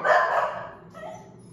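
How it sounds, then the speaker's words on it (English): A dog barks at someone at the door, a loud bark or two up front that then tails off into quieter whimpering yips, heard fairly close indoors. "My dog's upset."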